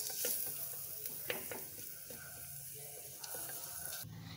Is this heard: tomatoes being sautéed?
yes